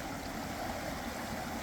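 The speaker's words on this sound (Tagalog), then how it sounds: "may umiikot na tubig." Swirling water on the Kern River in California gives a steady, faint rushing wash, continuous and even, with no voices.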